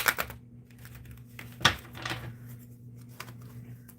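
Tarot cards shuffled by hand in a few soft, papery bursts and riffles, close and fairly quiet, separated by pauses over a faint steady hum.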